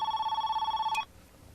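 A telephone rings with a bright, trilling electronic bell that pulses rapidly for about a second and then cuts off abruptly, leaving faint room tone, in a scene from the crime drama Diagnosis Murder.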